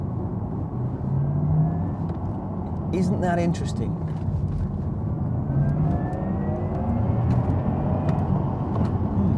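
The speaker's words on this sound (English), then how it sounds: "I actually prefer the synthesised engine noise that this Taycan makes" A futuristic synthesized drive hum from a Porsche Taycan electric car, steady and fairly loud, with rising tonal sweeps, while a person talks over it.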